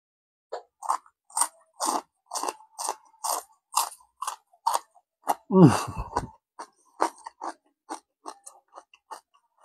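Someone chews super crunchy fried crablets up close, with a steady run of sharp, crisp crunches and one short cough-like burst partway through.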